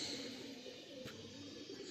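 A racing pigeon perched nearby gives a faint, low cooing against quiet outdoor background.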